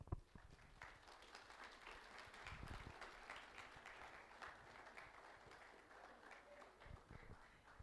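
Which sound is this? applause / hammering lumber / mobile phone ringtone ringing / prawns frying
applause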